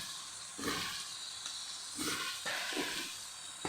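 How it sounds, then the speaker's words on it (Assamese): Chicken meat sizzles steadily in a pan for a coriander-leaf curry, with a constant bright hiss and several louder bursts as the pieces are stirred and turned, close and without talk. "আমাৰ মাংসখিনি এতিয়া সম্পূৰ্ণৰূপে ফ্ৰাই হৈ গৈছে।"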